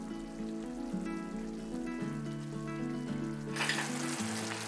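Masala and potatoes for aloo gobi sizzling and frying in a pan, a steady crackling hiss that stays fairly even and swells brighter near the end, with no talking.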